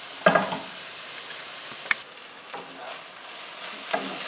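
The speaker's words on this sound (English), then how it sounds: "I'm going to cook these onions until they have become translucent and pretty much sort of brown" Onions frying in a pan for dal makhani, with a few quiet scraping stirs of a spatula over a soft, steady sizzle.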